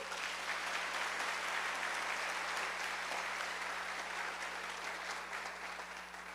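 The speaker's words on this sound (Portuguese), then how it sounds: "Pode aplaudir." Dense, sustained applause from a large crowd at a religious service, a thick continuous roar of clapping that eases slightly near the end.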